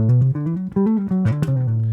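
Guitar notes glide smoothly into one another in a short legato run, with few separate attacks, ending on a held low note.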